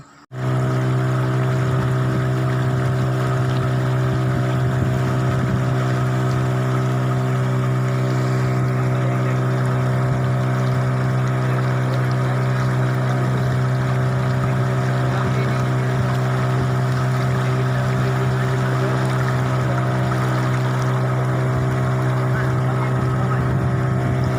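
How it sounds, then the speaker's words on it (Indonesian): A cargo boat carrying goods pushes through flood water in Sanggau, its engine a loud, steady motor drone that runs unbroken from start to finish, close by and with no talk over it. "Nah, ini kapal yang bawa barang ini nih."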